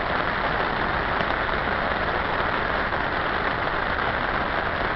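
Heavy rain pours steadily over a fishing pond, a dense, even hiss with no letup and no voices.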